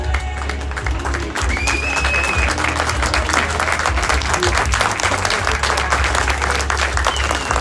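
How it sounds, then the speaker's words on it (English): A baseball crowd applauds a pitcher leaving the game, a steady and fairly loud wash of clapping that lasts throughout, with a faint voice underneath. "He exits to a nice ovation here at the crowd behind us."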